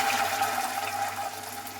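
Tamarind water is poured into a cooking pan for a fish curry, making a short, steady splashing stream that sounds close.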